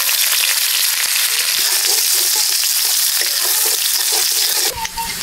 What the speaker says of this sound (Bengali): এবার কড়াইতে আর কিছুটা তেল দিয়ে দিলাম,